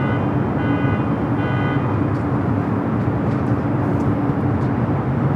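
An Emirates airliner taxiing at LAX, a steady broad jet engine roar with a whining tonal hum, loud and continuous, heard from a distance across the airfield.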